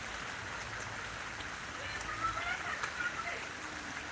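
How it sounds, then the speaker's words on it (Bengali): Steady rain pours down in a hot-weather downpour, a dense even hiss that swells slightly louder midway through, with no voices. "দেখো বৃষ্টিটা আরও জোরে চলে আসছে"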